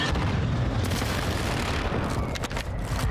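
A fuel charge goes off in a video game, a loud deep booming blast with rumbling aftermath and scattered crackles, close and filling the whole moment.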